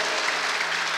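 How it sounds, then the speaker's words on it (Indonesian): Church congregation applauding together during a sermon, a dense, steady wash of clapping filling the whole second with no pauses. "Tepuk tangan bagi Allah kita."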